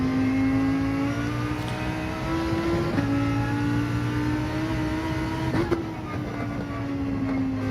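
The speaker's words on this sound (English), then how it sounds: "Oh, there's a car." A Gr.3 race car in Gran Turismo 7 at Trial Mountain, a sustained high engine drone that holds steady with small pitch shifts as gears change, loud and continuous with no talking.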